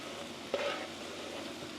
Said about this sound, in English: Mushrooms need to go in now.